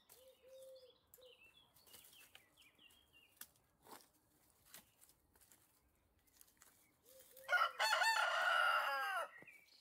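Chickens cluck softly and intermittently at close range, then a rooster lets out one loud crow near the end. No one talks.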